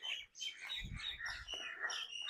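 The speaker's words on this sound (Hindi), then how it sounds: "ये चिड़ियों ने पता नहीं क्यों लड़ाई मचाई हुई है यहाँ पे।" Birds squabble and call noisily by a roadside, a crow joining the fight, with a dense run of chirps and tweets throughout and a low rumble of passing traffic underneath.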